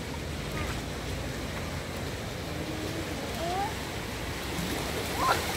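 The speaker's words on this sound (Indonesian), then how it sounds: "Ombak. Ada ombak nih." Murky flood water left by nine hours of heavy rain in Sidrap sloshes in small waves, heard as a continuous close rushing wash with wind buffeting the microphone.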